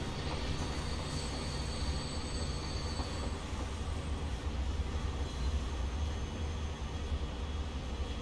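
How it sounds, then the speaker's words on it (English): A commuter train pulls into a station in the Transport Fever 2 video game, with a continuous loud rail rumble and faint wheel squeal and no talking. "So we see another commuter train coming in, blocking the entrance, and that is one of the north-south connection trains."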